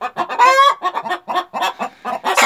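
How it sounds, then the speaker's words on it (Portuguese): Hens in a Brazilian coop cackling loudly after laying an egg, a dense run of overlapping clucks and squawks close by, one bird's call rising above the rest. "a festa que as galinhas fazem aí na hora de botar"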